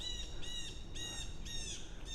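Birds chirp in short, bright bursts, about four calls spaced evenly apart, fairly faint over a low outdoor rumble.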